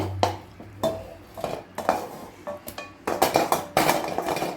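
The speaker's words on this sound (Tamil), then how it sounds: "நான் கொஞ்சம் பெரிய பாத்திரமாக வச்சு கொஞ்சம் எண்ணெய் ஆயில் போட்டிருக்கிறேன்" A large metal cooking pot being handled on a stove while cooking garlic rice, with a series of close, sharp clanks and clinks at uneven intervals, several landing in a quick cluster near the end, no talking.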